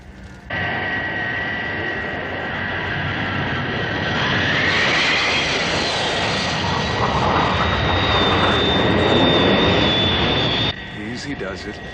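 Thunderbird aircraft engines on final landing approach, a loud continuous jet roar with a high whine that swells and shifts pitch midway, then cuts off abruptly near the end.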